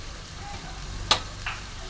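Tomato dropped into a pan of frying stems and potatoes for a Bengali vegetarian stem-and-potato curry, giving a single sharp plop over a steady low sizzle, followed by a softer second burst of hissing.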